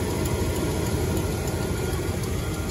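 A 12-valve Cummins diesel fitted with a Cat turbo, suspected of a manifold gasket leak, idles close up with a steady, loud low rumble and faint ticking throughout, no talk.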